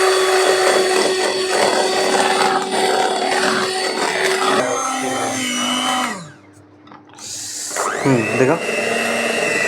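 An electric mixer whirs steadily through eggless vanilla sponge cake batter, its motor tone shifting as it works, then cuts out briefly before starting up again, with someone talking over it.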